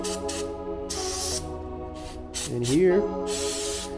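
An aerosol can sprays into the engine of a 1995 Honda Shadow VLX600 motorcycle in several short hissing bursts, close up. Someone speaks briefly between the sprays.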